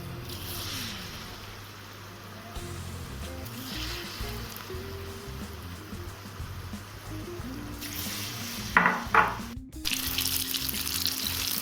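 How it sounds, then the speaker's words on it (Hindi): A second batch of food for a homemade Chinese dish deep frying in hot oil, giving a steady watery hiss and fizz that grows busier and more crackly toward the end. "तो चलिए दूसरे राउंड का भी फ्राई होने के लिए डाल देते हैं"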